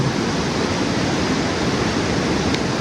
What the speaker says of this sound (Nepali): खोलाको साउन्ड